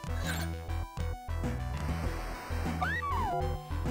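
Cats in the Sega Genesis game Home Alone 2: Lost in New York give synthesized meows, short electronic calls over looping chiptune music, with a quick rising-and-falling squeal near the end.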